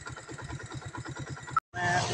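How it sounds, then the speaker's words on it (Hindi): A motorbike engine turns over and runs with a steady rapid low pulsing putter, then cuts briefly before revving up louder and rougher, close to the recorder, with no talk. "ये मैंने बाइक स्टार्ट कर ली"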